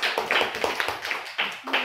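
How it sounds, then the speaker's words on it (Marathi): Students clap for a classmate named Chaitanya in a classroom, a short burst of scattered, uneven hand claps over about two seconds. "चैतन्यसाठी टाळ्या वाजवा."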